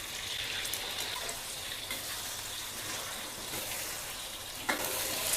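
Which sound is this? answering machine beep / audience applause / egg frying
egg frying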